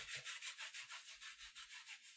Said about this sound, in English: Right arm rubbing up on the left.